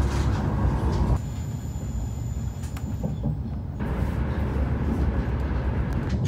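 A train rolls along the Adriatic coast, a steady low rumble and rattle of carriages with a brief quieter stretch midway before the noise swells again.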